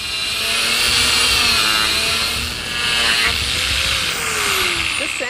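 A steady, loud power-tool whine with a broad high-pitched buzz, holding constant with slight dips in intensity, like an electric sander running.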